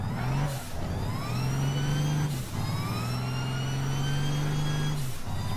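A vehicle engine in APB Reloaded revs in repeated rising surges, close and loud, its pitch climbing and then dropping between gear shifts, with no talk.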